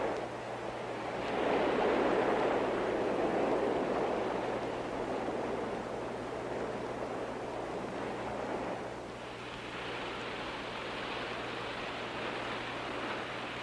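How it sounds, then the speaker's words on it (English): Ocean surf washes onto a sandy beach as a steady broad hiss that swells and eases, with wind noise on the microphone and no voices. "The waves passing overhead move the sand back and forth toward the shore and away from the shore."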